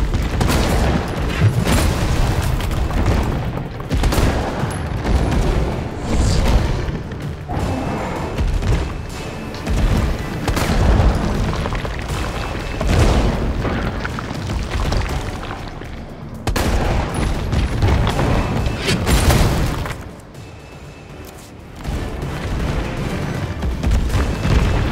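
Continuous gunfire and heavy explosions during a boss fight against Nemesis in the Resident Evil 3 Remake video game, loud and dense throughout with a brief lull near the end.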